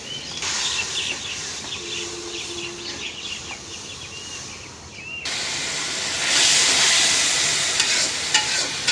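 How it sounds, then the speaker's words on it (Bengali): Spice paste of ginger, garlic, turmeric, chili and coriander frying in a pan, a continuous sizzle and hiss with scraping stirs, growing louder and steamier partway through, close and with no voices. "মশলাটা ভালো করে কষাই নিলাম।"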